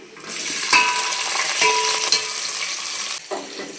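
Cinnamon, cloves, curry leaves, green chillies and onions hit hot oil for biryani, giving a loud, steady sizzle with a few sharp clinks of a spoon against the pan, then a brief lull before the frying resumes.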